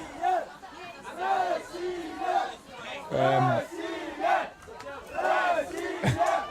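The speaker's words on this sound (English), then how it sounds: "You can now hear the Russian Open players cheering on their female compatriots" Russian men's Open ultimate frisbee players cheer on their women's team at a European championship match against Finland, a group of voices raising loud rhythmic chant-like shouts in repeated bursts, close and full, with crowd chatter between.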